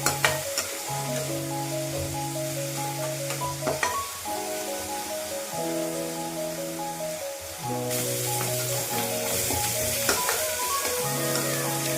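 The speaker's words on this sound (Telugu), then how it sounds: "ఇది ఆయిల్లో వేపుకున్నామండి, కొంచెం దగ్గర పడే వరకే." Red dal and fenugreek leaves frying in oil, a soft continuous sizzle with occasional stirring clicks under a steady melodic background tone; no voices.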